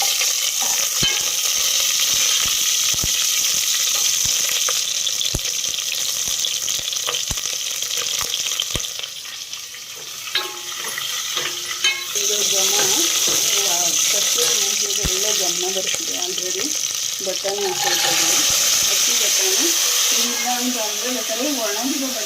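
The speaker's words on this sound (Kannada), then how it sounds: "ಒಂದು ಸೌಕಷ್ಟು ಕಸ್ತೂರಿ ಮೆಂತ್ಯ ಹಾಕೊಳ್ತಾ ಇದ್ದೀನಿ ನಾನು ಈರುಳ್ಳಿ ಹಾಕ್ಕೊಳ್ತಾ ಇದ್ದೀನಿ" Onion and kasuri methi fry in a pan for methi bath, a loud steady sizzle with stirring scrapes, while a voice speaks over the second half and water runs briefly in the background.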